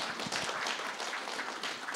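Steady, dense applause from a seated audience at a Hong Kong Book Fair talk on Hong Kong nature stories, continuous broadband clapping filling the whole stretch at moderate level with no speech over it.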